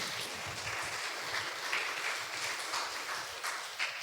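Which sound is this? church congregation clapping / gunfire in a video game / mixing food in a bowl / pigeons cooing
church congregation clapping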